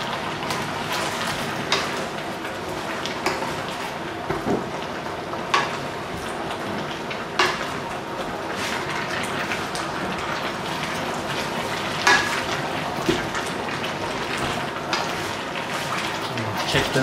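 Onions and tomatoes cooking down in a pan for a Cantonese oxtail and lamb stew, a steady close sizzle with faint scattered pops and occasional utensil taps throughout.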